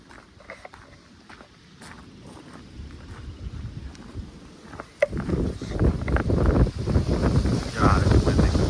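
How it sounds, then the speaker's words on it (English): Strong wind gusting on a hiking trail at a nature preserve near New Hope, Alabama, buffeting the microphone in rough bursts that grow much louder partway through, with footsteps and a voice mixed in. "God, it's windy."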